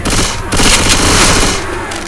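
Dense, loud gunfire fills the scene in the Left 4 Dead 2 Parish campaign, a continuous roar of shots with blasts and players' voices mixed in.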